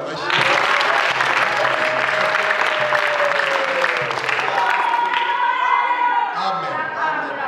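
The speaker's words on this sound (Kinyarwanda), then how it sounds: "Imana twongere tuyikomere amashyi" A church congregation gives sustained, dense applause to God, rising quickly and continuing close and loud, while a voice speaks over the clapping.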